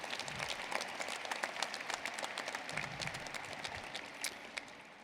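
Graduation audience at a high school ceremony applauding top students, dense steady clapping from a large crowd that continues at even loudness for the whole stretch.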